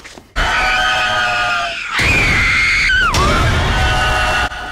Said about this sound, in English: How much screaming are you gonna do?